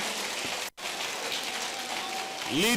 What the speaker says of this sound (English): Let us welcome, with a resounding round of applause, our very own